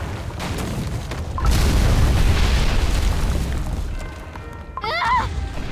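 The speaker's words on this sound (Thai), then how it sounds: "เจ็บจังระเบิดเมื่อกี้ คืออะไรนะ" A deep, booming explosion in the video game Cookie Run Kingdom swells and rumbles for a few seconds, then fades, followed by a short electronic chirping effect.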